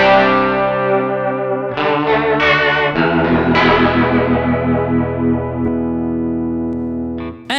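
Electric guitar played through a Tech 21 Richie Kotzen RK5 v2 Signature Fly Rig with reverb and rotary-tinged tap tempo delay, ringing out in sustained, shimmering chords and notes that swirl and trail off, with no voices.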